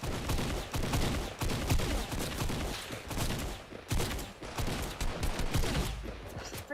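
Rapid bursts of gunfire in the video game Fortnite, loud and dense, with repeated shots fired in overlapping volleys throughout.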